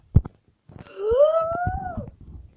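A dog or wolf in the Minecraft video game growls and whines in one drawn-out, rising-and-falling vocal lasting over a second, preceded by a couple of short clicks, fairly close and clear with no talk over it.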